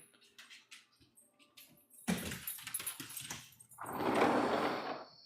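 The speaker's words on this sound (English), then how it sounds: "Why are you barking at me?" A pet dog barks and whimpers indoors in short, restless bursts, close to the listener, with a sustained louder stretch near the end.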